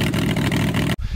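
Aircraft engine on the Bower's Pony running at high power during a ground run-up with the prop governor off, a loud steady drone that cuts off abruptly near the end before a low rumble resumes.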